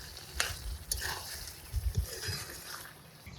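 Coriander chicken is stirred in a pan as ground black pepper is mixed in, giving a soft low sizzle with gentle scraping and a few light clinks, fairly quiet and close.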